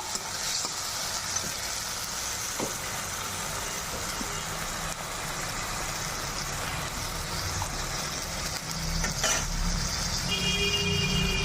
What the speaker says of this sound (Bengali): কাঁচা লঙ্কা, আদা, জিরেটা ভালো করে মশলার সাথে কষিয়ে নেবো।